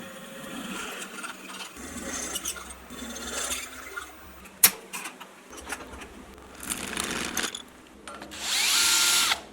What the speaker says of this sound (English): they go on the mill to drill the hole where the bottom bracket axle will be inserted later